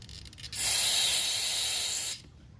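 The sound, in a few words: air compressor blowing out Honda generator carburetor passages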